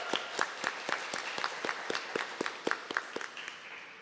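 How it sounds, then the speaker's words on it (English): Audience members at a mayor's press conference in Rochester clap in a steady, evenly paced rhythm. The claps are crisp and fairly close, from a small group, with no voices over them. "Let's give that a round of applause"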